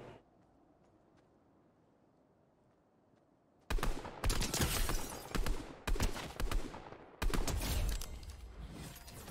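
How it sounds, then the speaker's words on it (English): Bursts of gunfire in the Fortnite video game: after a quiet stretch, several loud rapid volleys of shots come in clusters, each a few seconds long, with brief gaps between them. "I heard more shots over by the monster."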